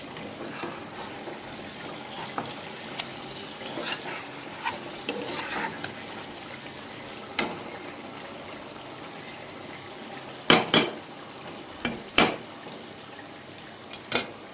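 Chicken and eggs cook together in a pan with a steady soft sizzle, occasional clatter of a utensil stirring and scraping, and a few sharper clicks toward the end.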